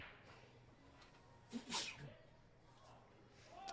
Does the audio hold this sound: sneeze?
yes